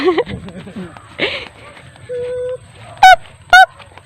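Two short, nasal goat bleats ring out close by, following some indistinct talk and a brief steady tone.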